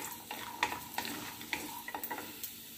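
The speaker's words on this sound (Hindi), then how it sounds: "ड्राई फ्रूट्स को भी हमें हल्का सा रोस्ट करना है" Dry fruits being lightly roasted in a pan for fasting upma, a faint sizzle under a run of light clinks and scrapes as a spoon stirs them around, no voices.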